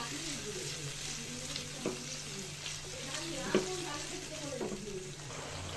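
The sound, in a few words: spice paste with ground nuts frying and being stirred in a pan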